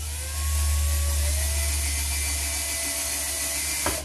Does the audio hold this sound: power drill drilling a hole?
yes